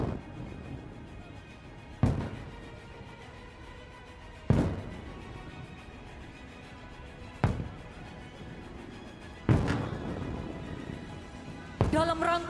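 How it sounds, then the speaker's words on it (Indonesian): Naval cannons fire ammunition toward shore targets in a series of about five heavy booms spaced a couple of seconds apart, each a sudden loud blast decaying into rumble, heard under an announcer's voice. "kembali meriam bergetar, menyala keras melesatkan amunisi yang akan merontokkan jantung pertahanan musuh"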